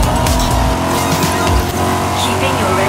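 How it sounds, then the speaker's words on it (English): Car engine revving in the racing video game Forza Horizon, played with an Xbox controller on a 2021 Razer Blade 14-inch gaming laptop; a steady, loud engine drone fills the whole stretch with a low rumble early on, while someone talks over it. "Your engines revving."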